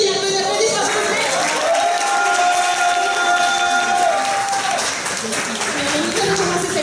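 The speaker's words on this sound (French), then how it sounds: "un peu d'applaudissements, s'il vous plaît." Conference audience at the Bordeaux Geek Festival applauding and cheering, a steady dense wash of clapping with crowd noise and a sustained whistle-like tone in the middle, continuous and fairly loud throughout.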